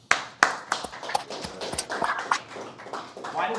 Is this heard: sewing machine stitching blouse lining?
no